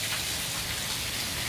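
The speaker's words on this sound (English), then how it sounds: "it has been raining since like 20 minutes" Rain falls steadily in a soft, continuous hiss in Pakistan, close and even, with no voices.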